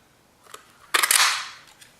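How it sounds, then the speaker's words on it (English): A Pretty Label Punch snaps down through paper to cut out a label, a single sharp crunching clack with a short papery tail after a faint handling tap. "So now we'll take the Pretty Label Punch, and we'll line that up, center it. We're going to cut that out."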